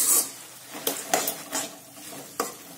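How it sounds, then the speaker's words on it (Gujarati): Puffed rice being stirred into melted jaggery for ladoo, close uneven scraping and clacking strokes of a spoon against the pan, about five distinct knocks over a soft sizzle, no voices. "તો હવે આપણે જે મમરા લીધા છે તે આ ગોળની અંદર એડ કરી દઈશું. આ રીતે બરાબર મિક્સ કરી દઈશું."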